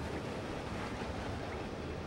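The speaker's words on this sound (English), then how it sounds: "Again with the water, man!" Rushing water in the video game Limbo makes a dense, steady roar with no breaks or pauses, loud and filling the whole scene without any talk.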